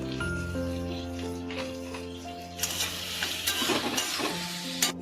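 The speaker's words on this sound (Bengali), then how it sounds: "এবার টমেটো আর আদা রসুন দিয়ে কষতে হবে ভালো করে।" Tomato with ginger and garlic being sautéed in a pan, a soft sizzle with scraping stirs growing busier toward the end, heard beneath sustained background music tones, no speech.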